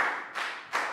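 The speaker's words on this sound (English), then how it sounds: "Round of applause for Lakau." A primary school class claps for a student after an English lesson answer, three short bursts of hand claps in a steady rhythm, close and fairly crisp, with no talking.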